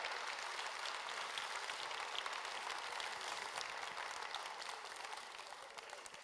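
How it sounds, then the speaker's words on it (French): An audience applauds at a Belgian MR party political speech event, with dense sustained clapping from a large crowd that gradually tapers off at the end, and no speech over it. "On peut applaudir Richard."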